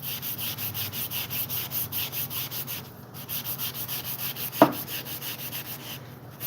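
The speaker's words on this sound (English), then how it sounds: "120 grit sandpaper first" Hand sanding with 120 grit sandpaper to take off surface scratches and leftover adhesive, close and steady, a continuous rhythmic rasp of repeated back-and-forth strokes with one sharp knock partway through.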